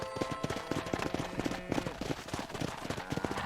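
Horse hooves clip-clop in Red Dead Redemption, quick repeated knocks in an uneven trotting rhythm, close and fairly loud, continuing through the whole stretch.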